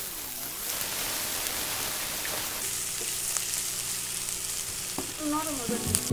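Pointed gourd fries with spice paste and green chilies, giving a steady rain-like sizzle close by as it is stirred, with a few scrapes and clinks near the end.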